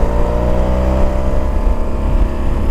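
BMW R1200CLC touring motorcycle with a 50-horsepower boxer engine pulling under acceleration, a loud steady close drone with rising engine pitch and heavy wind rush.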